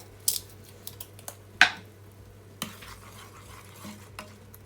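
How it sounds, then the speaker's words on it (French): A spoon stirs a spiced peanut sauce in a pot, seasoned with ground ginger and black and white pepper, making a few sparse, quiet scrapes and clinks against the pot with soft pauses between them. "On mélange bien le tout"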